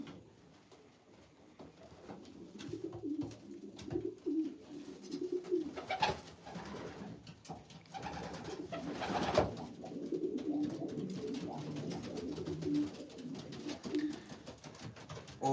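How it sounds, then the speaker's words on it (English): Racing pigeons cooing inside a loft, soft repeated low coos from several birds overlapping at close range, with light rustling and shuffling between calls. "these are racing pigeons, no tumblers"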